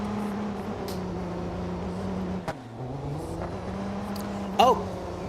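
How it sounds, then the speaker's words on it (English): Race car engine in the BeamNG racing game, RM-class cars at the Barcelona circuit, holding a steady droning hum with a brief dip in pitch midway and a short sharp burst near the end, heard at moderate, even loudness. "You can actually hear their engine revving."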